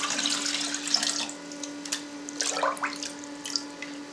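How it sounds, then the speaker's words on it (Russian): Three litres of 40-degree water pour steadily into a cheese vat while making Gouda, a continuous splashing stream with a faint hum beneath and no talking. "Добавляем 3 литра воды температурой 40 градусов."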